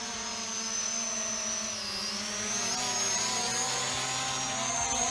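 A Holy Stone HS440 folding drone gives off a continuous high-pitched propeller whine with a steady buzzing hum, close and fairly loud throughout, its pitch shifting slightly as it flies.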